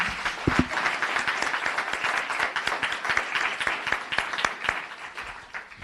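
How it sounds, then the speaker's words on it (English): Audience applause at a town council meeting, a steady dense clapping from a seated crowd that fills the room and holds for several seconds, with a few sharper individual claps near the start. "Let's give a big round of applause for Sachin."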